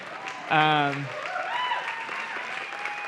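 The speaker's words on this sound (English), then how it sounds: "You can clap for him." A church congregation claps for a parking team volunteer during a Sunday service, a sustained ripple of applause following a brief loud tone, with speech mixed in.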